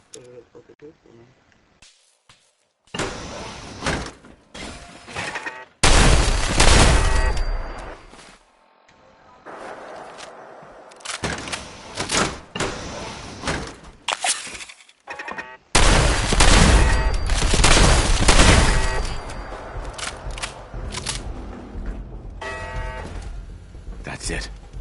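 Shotgun blasts ring out in a post-apocalyptic wasteland video game, several loud bursts of gunfire separated by quiet gaps, with talking in between.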